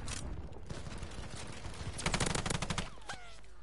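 A gun in Call of Duty Vanguard fires rapid automatic bursts, the sharpest rattling stretch coming midway, fairly close and loud, with no talk over the shots.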